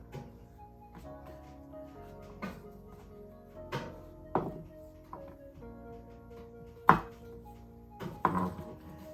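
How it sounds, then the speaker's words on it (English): Spinach and kale chopped with a knife on a cutting board: a sparse series of distinct, fairly quiet thunks spaced a second or two apart, with faint background hum and little talk. "And we chop this down again"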